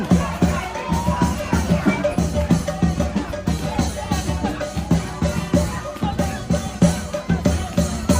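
A cheering crowd at a food-flipping contest for vendors in a Thai train market makes lively, pulsing noise, with shouts and chanting in a rhythmic, close, loud mass that goes on the whole time, and voices mixed throughout.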